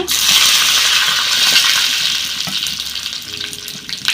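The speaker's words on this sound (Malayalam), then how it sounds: "കടുക് അതിന് ശേഷം ഒരു ചെറിയ ടീസ്പൂൺ ഉലുവ ഇട്ട് കൊടുക്കണം ഒരു തണ്ട് കറിവേപ്പില" Mustard seeds, fenugreek and curry leaves hit hot oil for a Kerala-style kalan tempering, a loud, close burst of sizzling and spattering that gradually settles to a quieter crackle.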